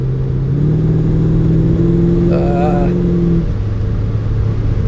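A 1969 Maserati Ghibli 4.7 engine revs and drones loudly, its pitch climbing and holding, with a voice speaking over the rumble.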